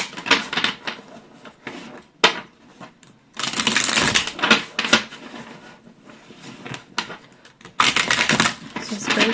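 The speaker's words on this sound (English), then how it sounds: "let's shuffle." Tarot cards are shuffled in bursts of riffling and slapping, close and crisp, separated by pauses, while a person talks between and over the shuffles.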